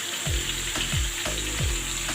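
Steady, loud sizzling of stuffed chicken drumsticks frying in a pan, with periodic low thumps or scrapes every half second or so; no voices.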